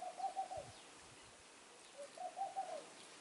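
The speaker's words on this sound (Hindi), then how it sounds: "संगीत सुनते रहिए पंछी की" Soft dove-like birds cooing in two short phrases with a pause between, faint and distant over a quiet hiss.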